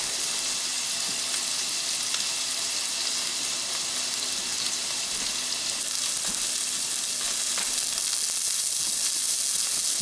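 Burger patty seasoned with cracked pepper sizzling steadily on a grill, a loud even crackling hiss with small pops, continuous and close with no voices.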